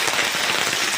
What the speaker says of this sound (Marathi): अजूनही पाऊस आहे भरपूर.